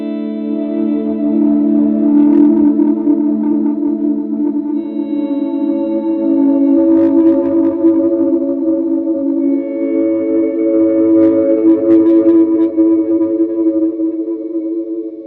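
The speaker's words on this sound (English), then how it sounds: "my ambient sound is this. It's that reverb with a reverse delay and then also the dotted eighth" Electric guitar played through reverb, reverse delay and dotted-eighth delay, sustained chords and notes smearing into a dense shimmering wash that stays loud and continuous throughout, with no voices.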